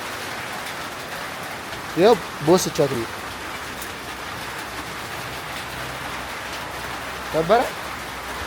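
Steady rain falls outdoors at a car rental spot where a car was about to be washed. The soft, even patter runs throughout, with a few short bursts of someone speaking over it.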